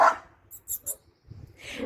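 A small dog lets out three quick, high yaps, fairly faint, with brief muffled sounds just before and after.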